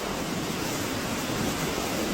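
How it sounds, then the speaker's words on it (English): Hurricane Melissa's winds and surf pound Jamaica's west coast as a dense, unbroken roar of wind and crashing water, loud and steady throughout with no voices. "Hurricane Melissa's powerful winds are pounding the area"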